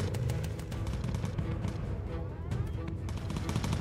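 Bomber gunners in the video game Bomber Crew fire machine guns, rapid repeated bursts of gunfire with heavy low rumbling booms, loud and close throughout.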